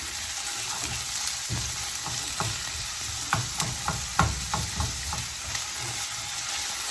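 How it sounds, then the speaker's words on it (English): Onions sauté in a hot pan with a steady, close sizzle, while a utensil stirs them and scrapes the pan in a series of light, irregular clicks. "we're going to let this saute these onions until they get some transparency on them"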